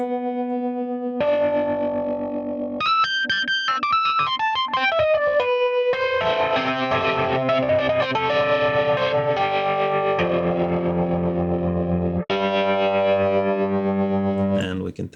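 An Electric 88 electric piano plugin, overdriven with the treble cut so it sounds like a driven organ, plays loud, dense chords and runs with a gritty, saturated tone and shifting effects.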